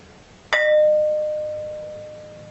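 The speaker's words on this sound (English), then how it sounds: "this thing really rings like a bell and it reverberates for quite a long time" A hand-held object is struck once and rings like a bell, its clear sustained tone lingering and slowly fading for over two seconds with no talking.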